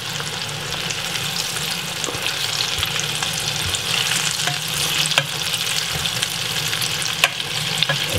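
Shrimp deep frying in hot oil, seasoned with Jamaican spice, gives a steady close crackling sizzle with scattered sharper pops throughout.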